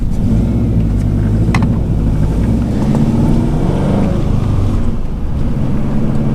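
A turbocharged Subaru engine idles while running lean, giving a steady low rumbling drone heard close up from inside the car, with no talking.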